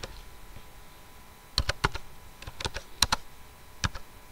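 Keys on a Windows PC or laptop keyboard are typed in short irregular bursts of sharp clicks, close up over a faint background hiss, with no talking.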